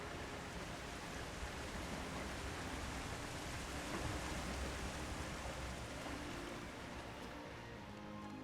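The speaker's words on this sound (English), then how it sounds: "Need a volume slider on waterfalls." A waterfall in a Middle-earth video game rushes in a steady, dense roar that fills the whole stretch evenly, with no voices.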